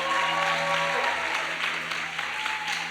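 A church conference crowd applauds for Jesus after a worship band, with sustained dense clapping that stays loud and steady throughout, and held music tones ringing underneath.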